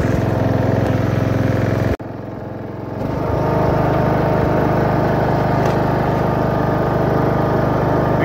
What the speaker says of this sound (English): me touring around on the John Deere L100 riding lawnmower